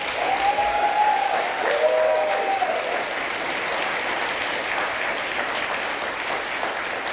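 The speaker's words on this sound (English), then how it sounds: "Please give a round of applause to the community who have enabled this to happen" Sustained audience applause at a documentary festival awards show, an even wash of clapping from a large crowd with a faint tonal note early on, continuing steadily throughout.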